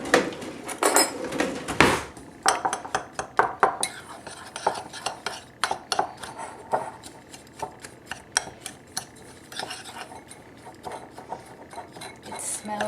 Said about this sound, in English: And then mix together with a spoon.